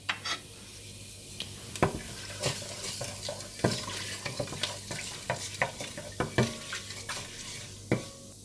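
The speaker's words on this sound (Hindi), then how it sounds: "और इसमें मेथी डाल दें, सौंफ और तेज़ पत्ता डालकर थोड़ा सा भून लें।" Fenugreek seeds, fennel seeds and bay leaf fry in hot oil for fish biryani, giving a steady sizzle broken by frequent sharp scrapes and clicks of a spoon stirring in the pot, close and fairly loud with no voices.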